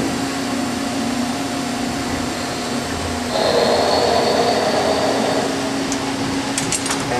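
A bar-fed machine running as it machines a shaft adaptor, giving a steady mechanical hum with a constant tone that grows louder and brighter midway, with a few faint clicks near the end and no talking.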